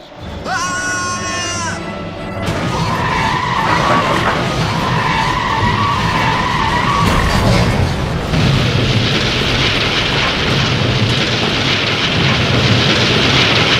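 A toy train's brakes screech in a long, loud skid, followed by a crash into a car and a continuing rumbling roar, after a brief tonal sound at the start.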